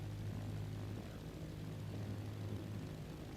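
Steady drone of a propeller aircraft engine in Microsoft Flight Simulator 2024 on Xbox, held at low RPM while taxiing, continuous and even with no talk.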